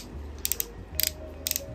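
Ankle ratchet joints on a Transformers Masterpiece MP-44S Optimus Prime figure clicking, three quick bursts of sharp plastic clicks, each two or three clicks, close and crisp with no talk.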